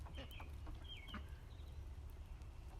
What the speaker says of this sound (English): Here we have the ducks